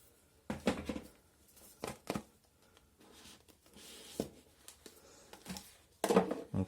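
Crinkling, tapping and rustling as a Tuya motion detector from Action is unpacked from its packaging, quiet scattered handling noises with short louder bursts.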